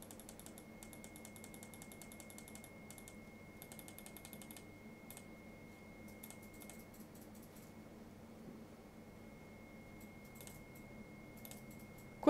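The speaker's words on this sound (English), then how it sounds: "all you do is hear my mouse clicking" Rapid small clicks from a computer mouse and keys during a Bloons TD 6 tower-defense match, tapping in quick irregular bursts at close range over a steady low background hum and a faint constant tone.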